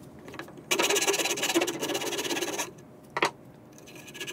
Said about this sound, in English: There was a lot of filing and sanding on this portion